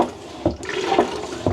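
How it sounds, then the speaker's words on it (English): A manual pump toilet aboard a flotilla sailing boat being flushed, giving several short sloshing, gurgling pump strokes of water at close range, spaced roughly half a second apart. "and then that flushes the toilet"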